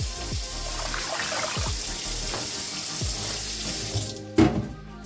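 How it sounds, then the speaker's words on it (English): Water runs steadily from a tap into a cooking pot, a continuous splashing stream with a few soft clunks, ending in a louder knock. "You can add 2 cups of water or 2 cups of chicken broth"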